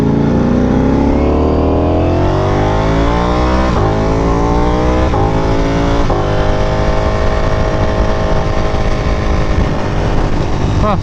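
Ducati Panigale V4R sportbikes cruise through a canyon, a loud continuous engine drone with shifting harmonics and a few gear changes, close and steady throughout with no talking.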